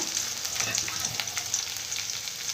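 Green chilies and curry leaves sizzle steadily in hot oil, a continuous close frying hiss with faint crackles and no talking.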